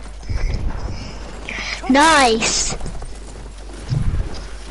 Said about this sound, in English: I'm gonna get on the horse.